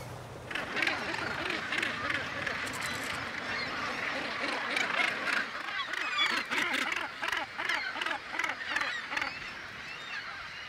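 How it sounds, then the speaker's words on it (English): Nesting gannets squabbling in a crowded colony, a dense chorus of harsh, rhythmic honking calls, near and continuous, with a narrator speaking over them. "Gannets nesting close to one another squabble with their neighbours over food and territory."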